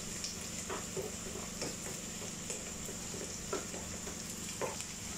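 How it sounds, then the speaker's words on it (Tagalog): Onions sautéing in a pan for ginisang upo, a steady quiet sizzle with light scattered ticks and scrapes of stirring, heard alone and fairly faint against a constant low hum. "medyo naluluto na po ang sibuyas"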